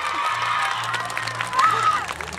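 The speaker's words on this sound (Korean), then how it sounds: "박수 한번 주세요." Crowd applause and cheering at the opening ceremony of the Goseong scallop seafood festival, an outdoor audience clapping with some shouts over a sustained wash of crowd noise.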